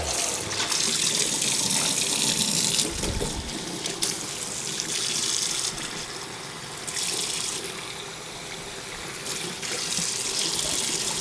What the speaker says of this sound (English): Run some water through it for a while